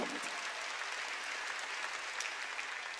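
A Korean church congregation at a Sunday worship service claps together in a steady, even burst of applause that fills the room without pause.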